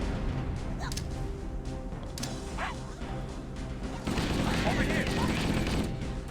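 In Halo: Combat Evolved, gunfire, impacts and clanking mechanisms crowd the mix, then a grenade explosion brings a burst of dense, loud noise that holds for about two seconds. Game voices are faintly mixed underneath.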